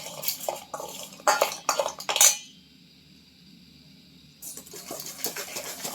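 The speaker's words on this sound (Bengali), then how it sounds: "এক চামচ ময়দা দিয়ে আমি এই ড্রাই ফ্রুটগুলো মাখিয়ে নিলাম" A spoon clinks and scrapes in a metal bowl while dry fruits are tossed with a spoonful of flour for an eggless chocolate cake, several quick knocks followed by a quiet pause, then light rustling.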